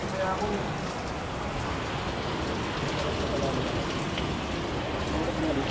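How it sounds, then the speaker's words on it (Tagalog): Heavy typhoon rain pours down in Bicol, Philippines, in a dense, unbroken hiss, loud and close, with no pauses across the whole stretch. "Kaso malakas pa ulan."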